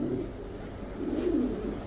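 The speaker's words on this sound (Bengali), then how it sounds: "দেখেন কি সুন্দর একটা কবুতর" A male pigeon coos softly and close by, a low, throaty rolling call that swells twice in under two seconds, with no talking.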